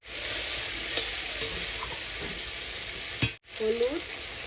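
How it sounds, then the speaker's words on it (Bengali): Onion, garlic, ginger, cumin and masala fry in a pan with a little water, a steady sizzle under stirring and a few scraping clinks of the spatula, fairly quiet. "সেইটা আমি এবার ভালো করে মশলাটা কষিয়ে নেব"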